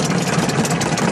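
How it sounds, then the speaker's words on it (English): A Jodel D112 light aircraft engine running steadily after a cold-weather start, a continuous close rumbling drone with a dense, even texture and no pauses. "there we go, the engine started, and it might stop, but at least it's fired and it's turning over"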